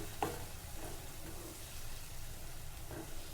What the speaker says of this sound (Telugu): ఈ ఆనియన్ పేస్ట్ అనేది కొద్దిగా ఫ్రై అవ్వాలి.